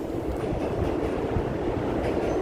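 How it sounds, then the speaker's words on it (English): Subway trains rumble beneath Broadway at Broome Street in SoHo, New York City, a steady, dense roar with faint rhythmic clatter that carries on without a break, heard from street level. "There are the trains down there."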